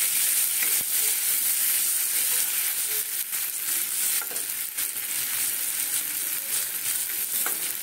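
Ingredients frying in a pan until browned for flattened-rice paneer pulao, a continuous bright sizzle with occasional stirring scrapes, close and steady.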